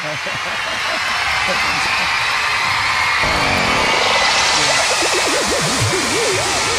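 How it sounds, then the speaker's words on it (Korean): A church congregation at a Sunday service breaks into broad, sustained applause that builds and fills the room, with a voice speaking over it. "자, 그러면 우리 박수로서 축복합시다"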